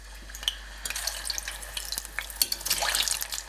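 Taro pieces dropped into about 450 ml of hot oil in a wok, crackling and spattering steadily with sharp pops growing busier toward the end, no talk over it.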